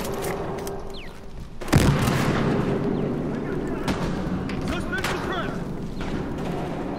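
A single heavy grenade blast booms once in the shooter game Battlefield Hardline, then rumbles under a dense wash of gameplay noise for the rest of the stretch.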